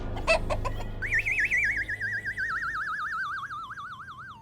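A voice imitates an old hen's clucking: a few quick staccato clucks, then a long, wavering, warbling cry that slowly fades.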